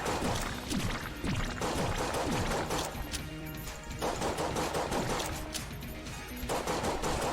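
Rapid, continuous M1911 pistol fire in the video game Enter the Gungeon, with shots overlapping densely under steady game sound throughout.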